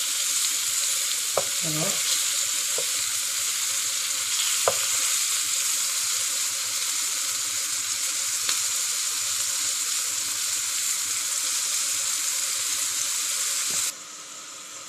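Minced meat and chicken sausages fry in a pan with a loud, continuous hiss of sizzling fat, a few light clinks of a utensil, and a single brief spoken word before the sound cuts off near the end.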